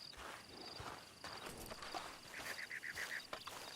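In the video game Red Dead Online, a horse's hooves clip-clop in an uneven walking rhythm up close, with a run of quick high chiming tones near the end.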